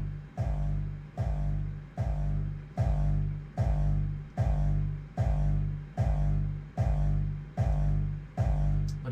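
Heavy distorted hardstyle kick drum thumping alone in a steady, loud rhythm, about nine punchy hits with booming low ends and gritty tails.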